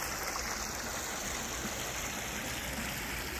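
A small creek, locally called a branch, flows behind an outdoor pizza spot in North Carolina, giving a steady, soft, continuous rushing and trickling of water with no talk.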